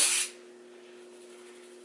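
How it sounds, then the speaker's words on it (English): A short burst of texturizing hairspray sprayed onto hair, a quick close hiss lasting about a quarter second before dropping to quiet room tone. "I kind of just spray it everywhere to give it some more texture and hold"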